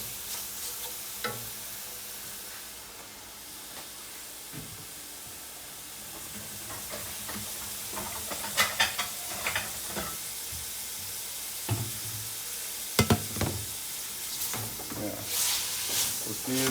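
Food sizzles steadily in a hot pan, a broad continuous hiss punctuated by scattered clicks and sharper pops from stirring, moderately close with no talk.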